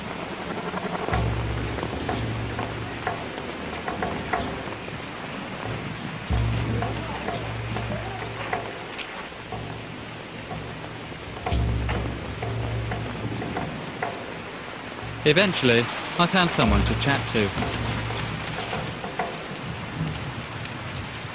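Heavy rain drumming steadily on a tin roof, a dense continuous patter with occasional louder rumbles, while someone talks over it and a louder splashing burst comes near the end.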